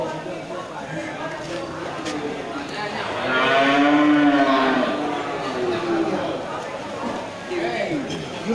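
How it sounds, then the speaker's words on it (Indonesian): Large cattle at a cattle market moo loudly in a long, drawn-out call near the middle, with other moos and a busy crowd of voices and market noise throughout. "sudah terlihat banyak sapi-sapi ukuran besar"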